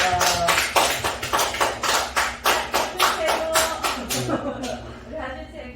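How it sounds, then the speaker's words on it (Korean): A church youth group claps in a steady, quick rhythm, loud close handclaps in even beats that slow and fade at the end, with voices heard among them. "박수!"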